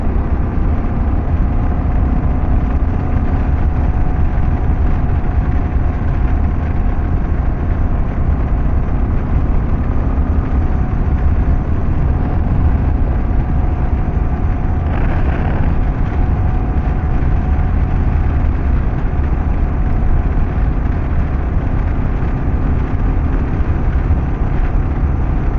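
A Kawasaki KLR650 motorcycle carrying a rider and passenger drones steadily through town, its loud single-cylinder engine and road noise forming a constant unbroken roar.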